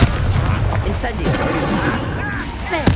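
An Incendio fire spell cast during combat in the Hogwarts Legacy video game, a rough, booming burst of flame with crackling noise and voices, loud and dense across the whole moment.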